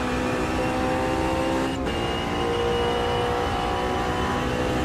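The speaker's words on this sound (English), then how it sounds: "it's a good sounding car" A race car engine in Automobilista 2 drones steadily at high revs, a loud continuous whine with a brief dip near the middle and no talk over it.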